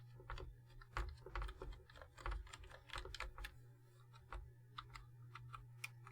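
Individual keys pressed on a Swedish-layout computer keyboard, crisp nearby clicks in irregular bursts and short pauses, with a faint low hum behind them and no talking.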